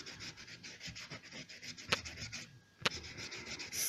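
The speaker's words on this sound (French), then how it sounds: "Si besoin, je lime, je raccourcis." Fingernails are filed with a nail file in a beauty routine, a rapid series of soft rasping strokes with two sharper scrapes and a brief pause near the end.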